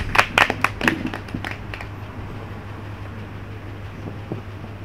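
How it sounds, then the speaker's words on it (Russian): A brief burst of audience clapping at a Mafia party game championship, a few sharp claps up close that quickly thin out and fade into quiet room tone with a steady low hum. "Аплодисменты игроку номер 2."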